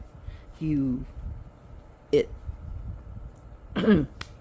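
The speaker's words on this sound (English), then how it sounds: "I'm starting to cough" Three short throaty bursts spaced apart, a harsh cough and throat-clearing sounds, fairly close, with no talking.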